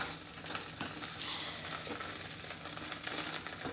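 Chorizo frying in a pan, a steady crackling sizzle that holds at an even level throughout, close and fairly loud, with occasional stirring and no talk.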